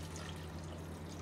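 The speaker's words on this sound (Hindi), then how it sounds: "तो हम डालेंगे एक या डेढ़ कटोरी पानी डालेंगे" Water poured from a bowl onto soaked raw basmati rice in a cooking pot makes a steady, close, continuous splashing rush with no talk over it.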